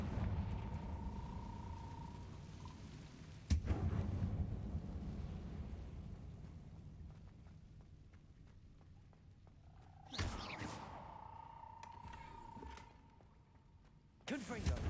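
Confringo fire-spell explosions in the video game Hogwarts Legacy: a dull, rumbling game ambience broken by a sudden blast near the start, then two more bursts with a ringing, hissing tail, while a voice speaks underneath.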